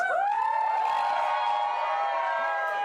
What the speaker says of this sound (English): I'm live from Doyle's Cafe with a very, very, very friendly, well-behaved crowd trying both to drink and enjoy themselves